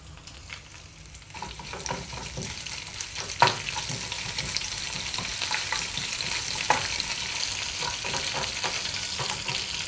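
Dried red chilies and curry leaves sizzle in hot oil while tempering a Kerala-style horse gram and yam erisseri, a close, steady crackle dotted with sharper pops.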